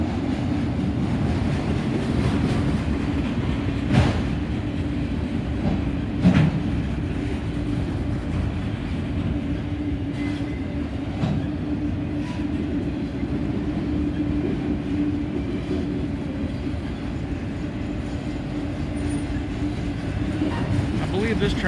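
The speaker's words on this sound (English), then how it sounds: "This train here is going to be bypassing the yard because he had a green." Steady rumble and clatter of a train rolling past a rail yard at Bellevue, continuous and fairly loud throughout, with occasional sharper rail clanks.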